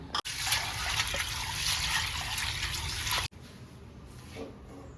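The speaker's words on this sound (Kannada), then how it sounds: "ಮೊದಲು ಅಲಸಂದೆನ ಕುಕ್ಕರ್ನಲ್ಲಿ ಹಾಕಿ ತೊಳ್ಕೊಳ್ಳೋಣ." Water pours and swirls over black-eyed peas in a pressure cooker, a close splashing trickle that is steady for about three seconds, then cuts off abruptly to quieter faint sloshing, with no talking.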